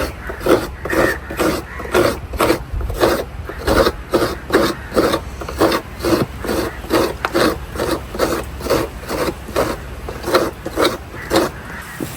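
Hand grating of a coconut half for a coastal fish curry, producing close, regular scraping rasps at a quick steady pace, each stroke distinct and loud.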